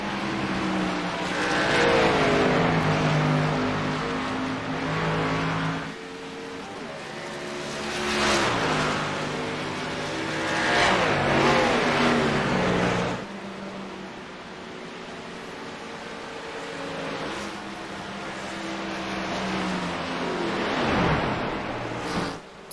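Race cars in a Cup Series event at Pocono Raceway, led by a 00 Ford Mustang out of pit lane, roar past in loud rising and falling engine passes with gear shifts, several cars in succession, close and sustained.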